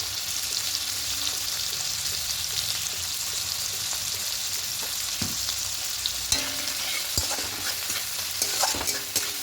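Chopped tomatoes and onions with salt frying in a pan while being stirred: a steady crackling sizzle with intermittent spatula scrapes and clicks, close and even, busier toward the end.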